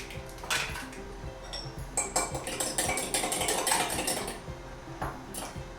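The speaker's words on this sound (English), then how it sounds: "Now in a separate bowl, whisk 2 eggs." Two eggs whisked in a separate bowl for sourdough blueberry muffins, rapid close clinking and tapping of utensil against the bowl in a continuous rhythm, alone without talk.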